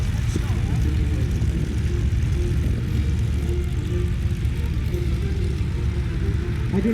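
A propeller airplane's engine rumbles steadily and loudly at an airshow's opening formation startup, a continuous low drone with crowd and wind noise.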